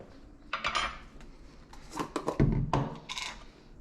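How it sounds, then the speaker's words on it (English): Toasted spices crushed in a mortar and pestle, several sharp knocking and scraping strokes at close range. "I'm going to put them into my mortar and pestle to grind them up"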